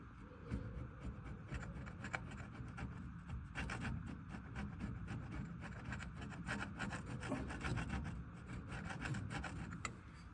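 Steady rasping and scraping of a tool working old gasket material off a rear differential housing on a 1994 Chevrolet Silverado, continuous close strokes with no talk.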